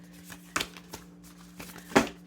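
Tarot cards shuffled by hand in a few soft, papery bursts, close and fairly quiet over a steady low electrical hum, with no talking.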